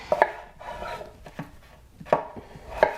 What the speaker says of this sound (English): So I just cut them into small little pieces so they cook.